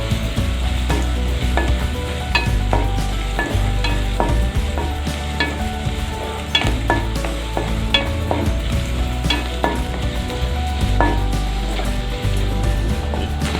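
Onions sauté in a pan as the base for an Indian-style anchovy fish gravy, a loud continuous sizzle with frequent scraping stirs of a spoon against the pan, close up and with no talking.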